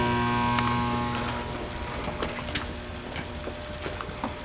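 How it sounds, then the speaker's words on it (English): A steady low electrical hum with a droning air-conditioning whir inside an abandoned hospital, faint clicks and ticks scattered over the constant background. "the noises you're hearing are power and AC."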